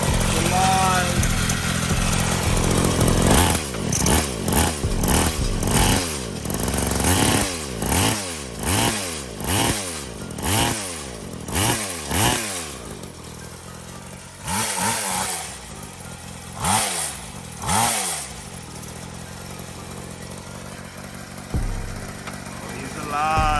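A 47cc mini pocket bike engine fitted with a bigger block runs loud and close, revving up and down in repeated rising whines over a rough two-stroke buzz, with voices talking over it.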